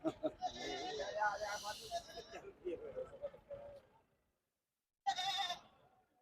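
Goats at the Tungwali goat market in Punjab bleat in a wavering, nasal call for about two seconds, then again briefly after a pause, close by, with men bargaining in the background.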